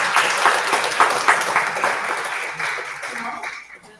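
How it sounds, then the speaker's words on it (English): An audience at a National Mathematics Day school event claps steadily after a speech, a dense even applause that holds for several seconds and then thins and fades toward the end. "Let's clap together to encourage us."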